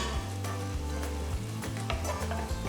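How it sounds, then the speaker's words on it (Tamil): Chopped onion and garlic sizzling in hot oil in a pan while cooking corn palak sabji, a steady crackling fry over a low tonal hum throughout, with no talk. "இப்போ பொடுசா நறுக்கின 1 வெங்காயம் சேர்த்து வெங்காயம் பொன்னிறமாக வர வரைக்கும் வதக்குங்க"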